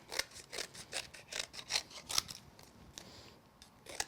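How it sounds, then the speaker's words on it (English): Scissors snip teal card at an angle in a run of about a dozen crisp, close, quiet cuts that slow and spread out toward the end. "Come back in with our scissors at an angle."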